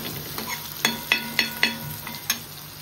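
Kala masa fish fries in a pan with a steady sizzle, and a metal utensil taps and scrapes in a regular series of sharp clinks as the fish is turned to cook the other side.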